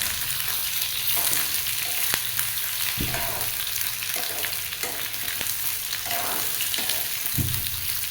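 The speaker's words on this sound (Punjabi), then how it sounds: "ਤੇ ਬਸ ਆਪਾਂ ਇਹਨੂੰ 2 ਮਿੰਟ ਲਈ ਫਰਾਈ ਕਰਨਾ" Radish pickle frying in a pan over a gas flame, a steady loud sizzle broken by occasional scrapes and stirring clicks, with no voices.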